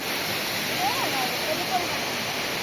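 Steady broadband rush of a waterfall close by, filling the scene evenly with a few faint voices in the background.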